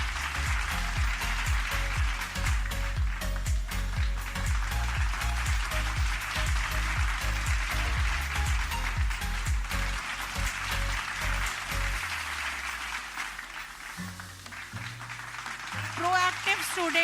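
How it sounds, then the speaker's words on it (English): Audience applause at a school annual-day award ceremony in Hyderabad, a steady wash of clapping that runs the whole time, mixed under music and a voice. "Give a huge round of applause, audience."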